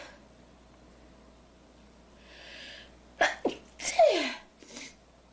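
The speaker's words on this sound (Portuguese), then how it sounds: "Sim, esse foi um espirro. Eu seguro o espirro e é assim que meu espirro sai quando eu seguro." A held-in sneeze: after a quiet breathy lead-in, a burst of sharp stifled sneezes comes close and loud in rapid succession, then a softer final puff.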